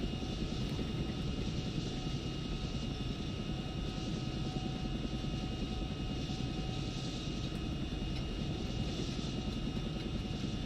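A Chinook helicopter in a video game flies at high speed, its steady rotor and engine roar filling the scene as one loud, unbroken drone with no let-up.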